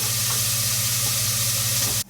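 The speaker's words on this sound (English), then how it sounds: "The onion is frying." Steady sizzling hiss of onion frying in a hot pan, continuous and close, cutting off abruptly at the end.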